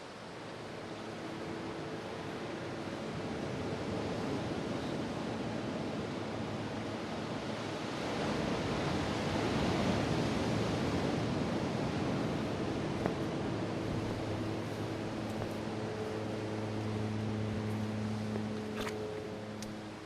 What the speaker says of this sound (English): it's crashing against the rocks nicely